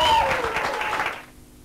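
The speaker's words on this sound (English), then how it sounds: "We give her a round of applause." A television studio audience applauds, a dense burst of clapping that fades out within about a second.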